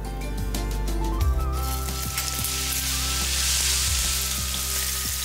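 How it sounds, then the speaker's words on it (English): Lamb shank searing in a hot pan, a loud, close sizzle that flares as the meat goes in, with a few utensil knocks and scrapes over the steady hiss. "Seal the lamb in the hot pan."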